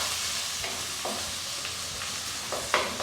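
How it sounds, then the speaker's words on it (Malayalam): Tomato and onion sizzle as they are sautéed in a pan for a chilli-red sardine and mackerel fish curry, a steady close fry with a few soft stirring scrapes and no talk. "വലിയൊരു തക്കാളിയാണ് ഇപ്പോൾ ഞാൻ അതിട്ടിട്ട് ഒന്ന് വഴറ്റിയിട്ട് നമുക്ക് മൂടി വെക്കണം."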